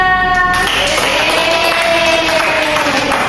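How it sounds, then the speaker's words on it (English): Children in a classroom clap their hands for a classmate, a dense steady patter of many small hands filling the room, with a short voiced tone at the start. "Clap hand for Nisa"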